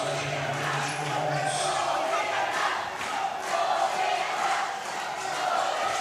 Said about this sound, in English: And the crowd loving it.